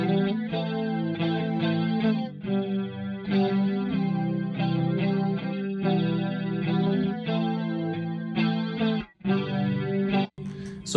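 Electric guitar played through a chorus effect pedal, strummed chords with a lush, shimmering warble, loud and continuous with brief pauses near the end.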